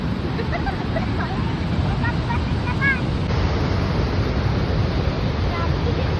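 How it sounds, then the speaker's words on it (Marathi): Water pours over the waterfall at Ozar dam in Sangamner taluka in a loud, steady rushing roar that fills the whole clip, with faint voices nearby. "आमच्या तालुक्यातला सगळ्यात मोठा वॉटरफॉल आहे"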